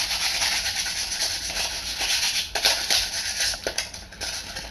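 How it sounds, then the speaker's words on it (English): Sandpaper rubbed over a plastic controller part to strip off printed signage, giving a steady close, hissy scraping with a few sharper strokes near the end and no talk. "I have applied sandpaper and get rid of the signage"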